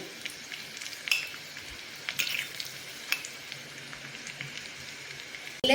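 Small pieces of coconut and cashew fry in a pan for moong dal payasam, giving a soft continuous sizzle with a few light stirring taps and a sharper clatter at the end.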